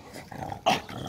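A small, feisty dog being trained gives a low growl that rises into a short, sharp snarling bark, close and alone.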